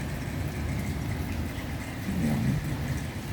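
Steady rain falling in Hong Kong, a dense continuous hiss of drops that stays even throughout with no talking.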